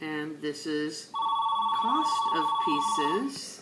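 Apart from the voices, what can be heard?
telephone ringing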